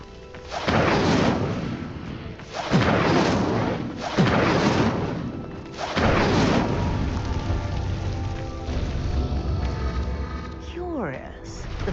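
Incendio fire spell flames in the Hogwarts Legacy video game, cast at a pyre: four loud whooshing bursts of fire, about two seconds apart, each roaring up then fading, followed by a quieter lingering crackle.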